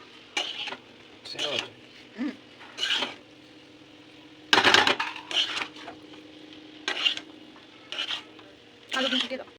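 Chow mein noodles and vegetables get stirred in a hot pan, producing repeated sizzling bursts and scraping strokes in an irregular rhythm, with one louder clatter midway and no talk.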